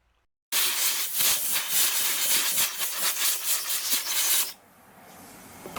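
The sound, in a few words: scrubbing varnish off a motorcycle carburetor butterfly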